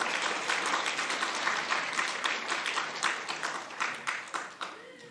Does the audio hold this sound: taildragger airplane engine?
no